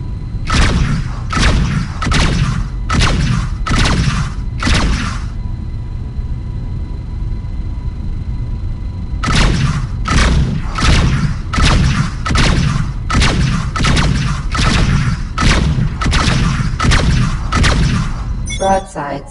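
Pulse turret and broadside cannon fire in Rebel Galaxy, loud rapid bursts of regular blasts in two long runs split by a quieter gap with a hum and a short voice callout.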